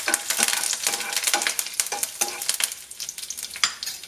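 Curry leaves sizzle and crackle in hot oil over a very low flame, alongside dried red chillies, in a raw banana stir-fry. The spitting is dense and close, with sharp pops running through the whole stretch and no talk.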